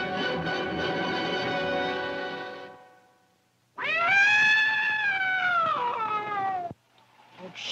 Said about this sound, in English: It serves you right putting your tail into the rocker. Bad cat.